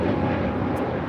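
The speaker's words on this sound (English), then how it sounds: "That was Spirit Airlines 631 taking off to Atlanta on an A320 Neo." A Spirit Airlines Airbus A320neo takes off from LAX, its engines a loud, steady roar over a brief moment with no voices.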